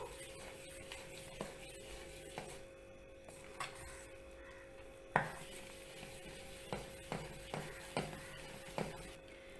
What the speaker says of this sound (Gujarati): તો હવે આપણે આ બેટરને હલાવી લેશું.